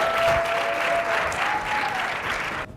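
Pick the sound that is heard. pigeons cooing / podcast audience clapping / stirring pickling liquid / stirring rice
podcast audience clapping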